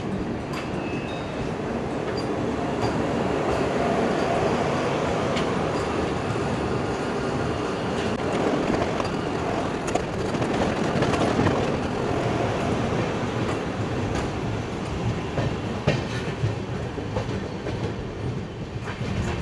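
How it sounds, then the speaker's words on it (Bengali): A Vande Bharat sleeper train on the Kamakhya–Howrah route pulls into Bandel junction with a continuous close rumble and rhythmic clickety-clack of wheels over rail joints, its steady roar filling the whole stretch. "দেখো বন্দে ভারত স্লিপার, যেটা কামাখ্যা থেকে হাওড়া চলাচল করে,"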